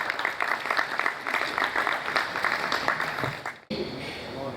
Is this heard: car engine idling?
no